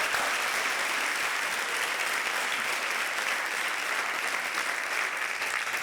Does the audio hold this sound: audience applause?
yes